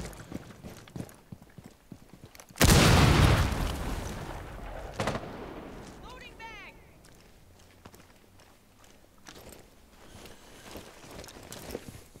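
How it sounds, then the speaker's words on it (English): A breaching charge detonates in Rainbow Six Siege as one sudden, loud blast that decays over a couple of seconds, followed by quieter in-game thuds, movement and faint background sounds. "Tossing an EMP grenade. Breaching charges out."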